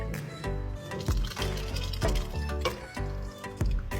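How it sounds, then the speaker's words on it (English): Blended milk and corn poured into a pot of corn chowder, a steady liquid pour with soft splashing and dripping that runs continuously close up, over a busy kitchen background. "to this now, we are going to add our blended milk and corn"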